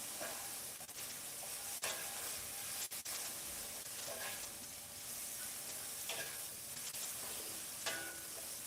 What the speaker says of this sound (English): potatoes diced up, cooking just fine in some avocado oil